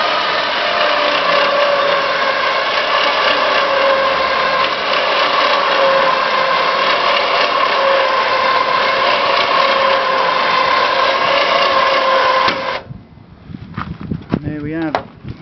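A Penny Hydraulics trailer hoist crane lifts an 88-kilogram load with a steady, loud mechanical drone for about twelve seconds, then cuts off abruptly, leaving quieter handling noise and a brief voice.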